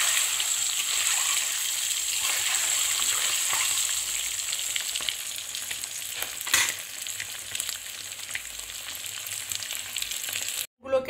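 Eggs lightly frying in hot oil in a pan for egg curry produce a steady crackling sizzle, close and fairly loud, with occasional stirring clatter and a brief pause near the end.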